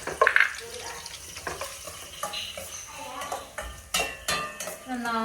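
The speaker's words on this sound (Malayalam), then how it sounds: "നന്നായിട്ട് ഇളക്കുക." Garlic and onion for a pasta sauce being stirred in a pan: steady sizzling frying under repeated scraping and clinking of a spoon against the metal, with sharper knocks near the end.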